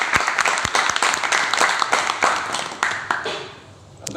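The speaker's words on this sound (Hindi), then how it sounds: "एक बार जोरदार तालियों के साथ।" Enthusiastic crowd applause welcoming Sukhdev Singh at a Rohtak team event, with sharp individual claps standing out over the dense clapping before it thins and fades near the end.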